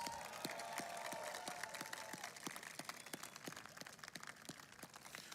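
Crowd applause at the National Menorah lighting in the US capital, a faint, distant and steady wash of clapping with scattered sharper claps throughout.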